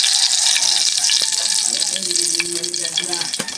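Bulinaw (anchovy) fish omelette frying in oil, a steady dense sizzle and crackle throughout with faint clinks and background talk beneath.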